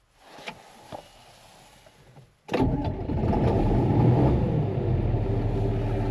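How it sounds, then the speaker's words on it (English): Old John Deere tractor with a quad range transmission cranks over in the cold after sitting parked for weeks, then catches and settles into a loud, steady close-up idle. "I really enjoy driving this tractor. I might just crank it up and watch it run."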